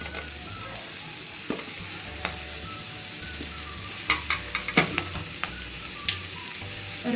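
Onions sautéing in oil in a pan for butter chicken masala, a steady close sizzle with scattered clinks and scrapes of stirring, no voices.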